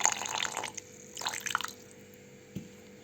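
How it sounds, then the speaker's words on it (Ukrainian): Cold water poured from a spoon into a starch, sugar and chocolate cream mixture gives a couple of short, quiet splashing trickles in a home kitchen, followed by a faint clink. "І додаємо 2-3 столові ложки звичайної холодної води"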